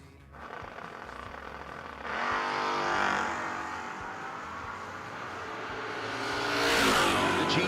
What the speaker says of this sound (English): Brad Northrup in the Mustang.